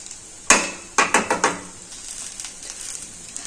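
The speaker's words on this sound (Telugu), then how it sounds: "అంత కారం వేసి వేయించుకోండి." Bitter gourd with chili powder and sesame seeds fries in a pan, with a few sharp clanks of a spoon stirring against the metal over a low, steady sizzle that fades to a faint hiss.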